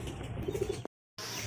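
A Shahjahanpuri pigeon gives a brief low coo, a few soft pulsing notes close by, before the sound cuts out into a short silence and then resumes as background noise.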